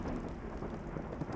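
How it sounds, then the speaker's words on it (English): Thunderstorm out on open ranch country, with steady rain and a low rumble of thunder running continuously and fairly loud throughout, no voices. "Nobody takes chances with a thunderstorm out on the range."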